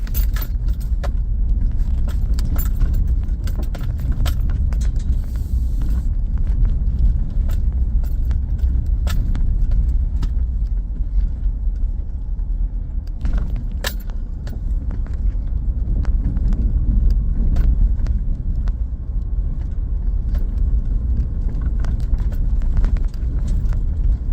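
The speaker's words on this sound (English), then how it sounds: "Back tires always spin out here." A vehicle drives along a track toward a neighbour's sawmill with its back tires spinning out, giving a steady loud rumble with continuous jangling and rattling throughout and no talk.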